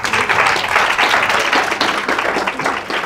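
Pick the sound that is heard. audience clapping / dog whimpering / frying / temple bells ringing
audience clapping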